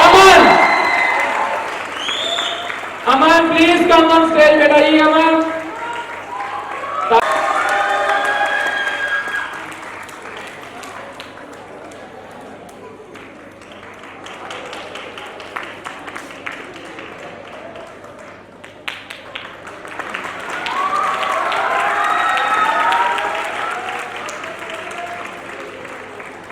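Loud audience applause fills a school annual prize distribution ceremony, swelling after an announcer calls a student of the year to the stage, then fading and rising again as clapping continues under occasional speech.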